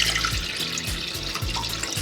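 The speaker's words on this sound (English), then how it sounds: "we're actually going to pour this out, rinse it, and wash the bones" Tap water runs into a sink as soaked bones for hot pot are rinsed, a steady close splashing stream with rhythmic low sloshing, and no one talks.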